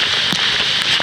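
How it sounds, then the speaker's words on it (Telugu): Heavy rain pours outdoors at Devkund waterfall in Maharashtra, a loud, dense hiss with scattered drops pattering close by, heard without talk. "ఏమో ఫుల్ వర్షం పడుతుంది"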